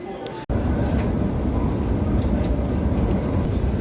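A Moscow metro train rumbles along, a loud, steady roar of wheels and carriage noise filling the scene after a brief cut near the start.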